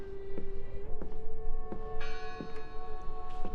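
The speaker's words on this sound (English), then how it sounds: "I heard the bell." A church-like bell tolls repeatedly in the video game Draugen, its struck notes sounding at a regular pace over a thick, rumbling ambient backdrop.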